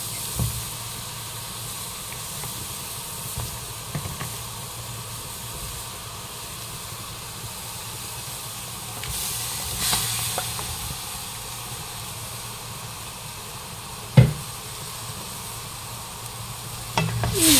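Pork rib soup simmering in a pot, made as kiam chai duck soup, gives a steady soft hiss and bubbling steam throughout, with a few brief clinks near the middle and end; no talking.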